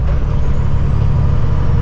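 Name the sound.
truck exhaust pipes revving before pulling away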